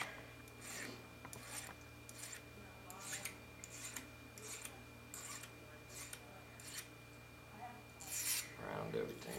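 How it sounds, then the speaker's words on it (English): A metal file rasps across the edges of wrapped wire jewelry, bevelling and smoothing them in a run of short, repeated close strokes, with a brief louder scrape near the end. "going to go ahead and clean these edges up too before I roll it down. And bevel the edges."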